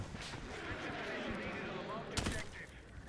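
Gunfire in the shooter game Battlefield 6 crackles as steady dense rattling under continuous game noise, with one sharper, louder burst near the end.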